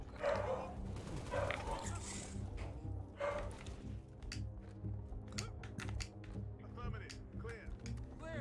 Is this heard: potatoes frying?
no